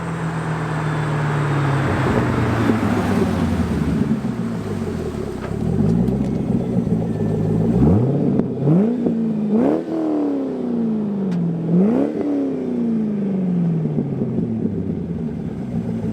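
A C5 Corvette's LS1 V8 with a Billy Boat Bullet axle-back exhaust rumbles at idle, then gets blipped through several sharp, loud revs to around 4,000 RPM, each climbing quickly and falling back, close up with no talking.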